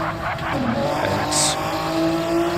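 Touring car championship race car engine droning loudly and steadily under acceleration, with tyre noise and a commentator talking over it.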